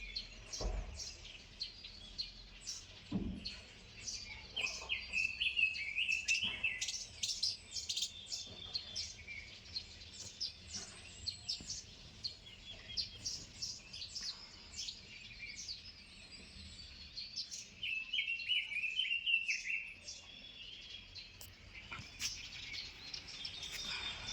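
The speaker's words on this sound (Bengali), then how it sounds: "কত সুন্দর পাখির কুলকুল করছে আওয়াজে" Morning birdsong in Pelling, Sikkim, with many small birds chirping and tweeting at varying distances, soft and continuous over quiet outdoor ambience.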